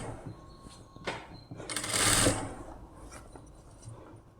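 Sewing machine stitching rolled piping fabric a quarter inch from the edge, a soft mechanical whirring run that swells to a louder burst in the middle and then eases back, close and alone.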